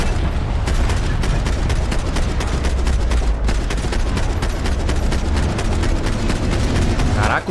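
Dense, rapid gunfire from the Max Payne 3 video game, loud and continuous, with overlapping shots and booms filling the whole stretch.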